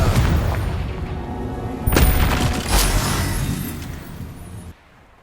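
Fiery Confringo spell blasts in Hogwarts Legacy, a loud crackling burst followed by a second booming impact, the rumble decaying before cutting to near silence.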